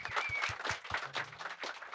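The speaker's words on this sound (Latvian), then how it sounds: "Mēs varam parādīt, vai ne, ar aplausiem." An audience in a bike shop gives brief applause, with scattered close hand claps that thin out over two seconds and a faint voice mixed in.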